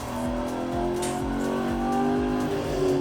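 A Koenigsegg CCX supercar engine roars loudly up close on the Dunsfold race track in a rear-wheel-drive run, its revs rising and easing as the throttle is balanced, with repeated rhythmic thumps over a continuous high-pitched drone.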